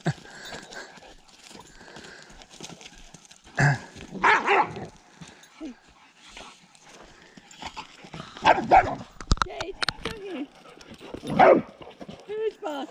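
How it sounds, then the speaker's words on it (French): A dog barks in scattered bursts amid people talking, with other background movement between the barks. "Oh, laissez-le aboyer, hein."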